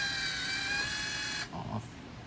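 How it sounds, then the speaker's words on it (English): The conveyor motor of a Formax 7200 mail machine runs with a steady, close electric whine for about a second and a half, then cuts off, leaving a brief low mechanical thump and quiet room noise. "There's your track motor. Conveyor motor."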